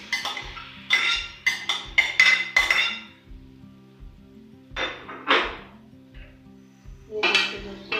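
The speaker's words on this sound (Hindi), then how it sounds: "अभी इसमें मैं कीमा डालूंगी। कीमा डालकर इसको फ्राई करूंगी।" Camel mince is tossed into fried tomato masala and stir-fried in a pan, heard as bursts of sharp metallic clanks and scrapes in quick clusters with short pauses, close up.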